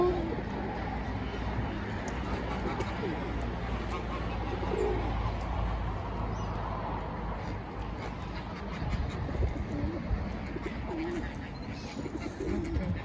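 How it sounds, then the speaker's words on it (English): Two pigeons sitting together give low, soft coos beneath a steady outdoor hum. The calls are faint and scattered across the stretch. "I really fascinated with these two pigeon together."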